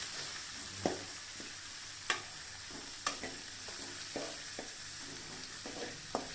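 Upma ingredients sauté in hot oil while a spoon stirs them, giving a soft sizzle broken by several sharp clinks and scrapes against the pan at an uneven pace.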